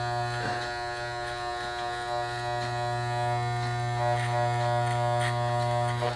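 Electric clippers buzz steadily and close up throughout a self-cut bald fade, a continuous motor hum with faint shifts as the blade moves across the head; no one speaks.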